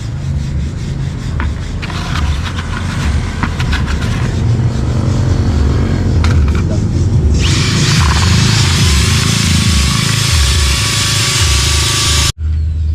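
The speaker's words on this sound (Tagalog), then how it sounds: "Ayos yung panghalo natin ngayon, pang-mix yun ha." A handheld power mixer stirs waterproofing compound at a construction site in San Pablo, Laguna. It makes a loud, continuous grinding whir that turns harsher partway through, then cuts off abruptly just before the end.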